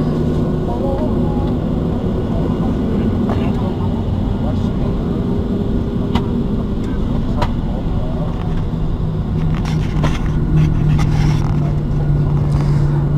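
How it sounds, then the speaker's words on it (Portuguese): A GOL airliner landing in Rio de Janeiro fills the cabin with a loud, steady roar and rumble, with faint thumps and rattles and a heavier surge near the end, while people talk softly. "o avião está pousando aqui no Rio de Janeiro."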